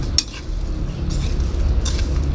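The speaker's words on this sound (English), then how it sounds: "And now I'll just mix them all so that each and every fry gets coated nicely." French fries tossed with spices in a bowl: soft scraping and stirring with a couple of light clinks against the bowl, close and steady, no talking.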